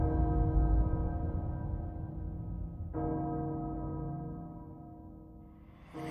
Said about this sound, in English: Castle Bell heralds danger.